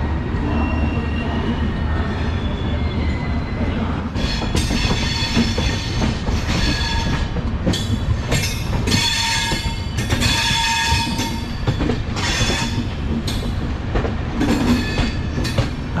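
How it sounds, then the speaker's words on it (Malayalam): A train passes through Jaipur railway station with heavy rumbling, clattering wheels over rail joints, squealing metal and bursts of horn, loud and close throughout. "ഇപ്പൊ കേറാൻ വേണ്ടിട്ട് ഒരു വണ്ടി വരാനുണ്ട് തോന്നുന്നു ഇവിടെ"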